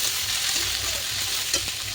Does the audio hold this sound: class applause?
no